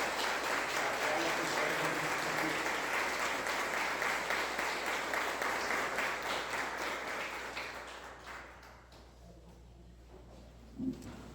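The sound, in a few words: congregation applause in church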